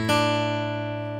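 Acoustic guitar playing the closing phrase of a verse tab, one bright plucked attack that sustains and fades gradually, close-miked with no talking.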